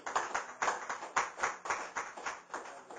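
Rhythmic congregational clapping at a church service, hands striking together in a steady beat of roughly two claps per second, close and fairly loud, with no other sound over it.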